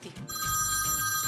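A telephone bell rings continuously with a bright, metallic trill, close and loud.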